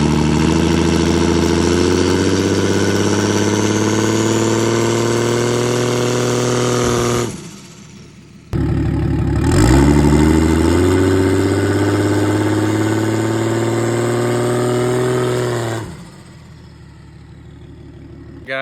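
A turbocharged Jeep XJ engine runs loudly and steadily with a droning, harmonic tone, cutting out briefly twice before resuming, the second run rising slightly in pitch like light revving.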